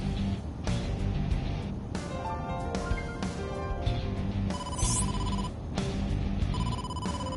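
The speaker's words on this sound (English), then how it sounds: "incoming call from the boss" Phone ringing with an incoming call, a repeating electronic ringtone of bright tonal pulses over a busy background, moderately loud and continuous.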